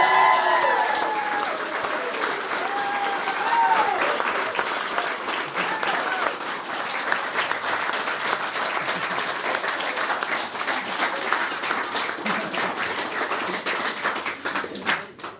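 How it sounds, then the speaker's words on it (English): Wedding guests at a ceremony give the newlyweds sustained, lively applause that rises quickly and holds steady for a long stretch, dense and close, with cheers and voices mixed in early on. "Let's give them a round of applause."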